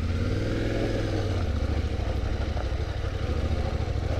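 A motorbike engine drones and revs steadily while riding an off-road trail, close and continuous with a rough mid-pitched hum.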